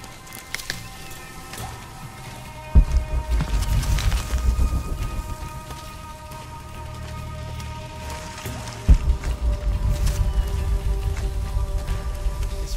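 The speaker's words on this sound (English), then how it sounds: "Rain is unreal." Steady rain patters on surfaces in the video game Shadow of the Tomb Raider, a constant hiss under a low ambient drone, with two sudden heavy low thumps that swell into rumbling stretches.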